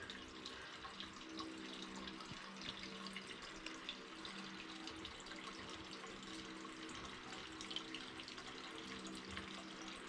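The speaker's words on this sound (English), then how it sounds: "Let that drain there for a second. You can see it's full of fuel." Fuel draining from a Dodge Dakota fuel tank, a steady, faint liquid pour and trickle running without pause for the whole stretch, with no talk.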